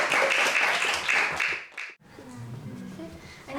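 Classroom students clap together in a brisk burst of applause that stops sharply, then a voice begins speaking in the quiet afterward.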